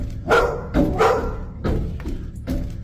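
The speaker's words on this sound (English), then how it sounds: "So dog's barking." A dog barks and woofs several times in an indoor home setting, with close, loud bursts spaced roughly every half to full second, mixed with thumping sounds.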